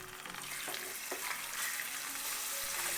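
Twenty grams of unsalted butter hits amber caramel just taken off the heat, setting off a loud, steady, close sizzle and hiss that runs unbroken throughout, with no talking.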